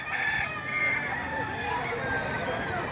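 A young rooster (stag) crows at a livestock auction market in Lipa, Batangas, its drawn-out call rising over a steady din of crowd chatter and other fowl, with people talking nearby.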